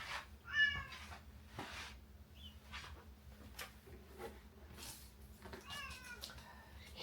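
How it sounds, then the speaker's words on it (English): A pet cat meows loudly and repeatedly indoors, sharp insistent calls near the start and again toward the end, over a quiet room hum. "My cat is going nuts here."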